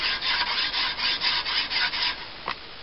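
A coarse file or abrasive strokes up and down the curved sweep of a handmade Bowie knife blade, giving about a dozen close, rhythmic rasping scrapes that stop with one final short stroke.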